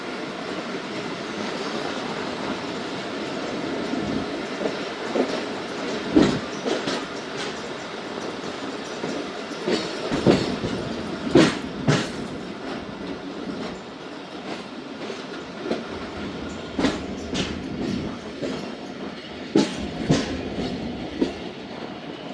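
The Zakariya Express slows to a stop at Jhimpir railway station, giving a continuous rolling rumble close by with repeated sharp clacks and bangs of wheels over rail joints.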